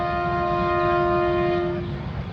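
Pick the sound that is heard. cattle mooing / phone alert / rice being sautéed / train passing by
train passing by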